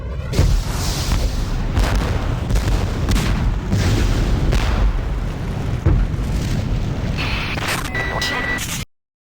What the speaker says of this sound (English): A massive explosion rocked central Pyongyang just minutes ago.